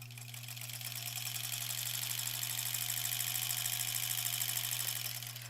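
A sewing machine runs steadily for the whole stretch, stitching sashing strips onto a granny-square quilt. Its even mechanical whir has a low motor hum beneath it, close and constant, with no pauses and no talking.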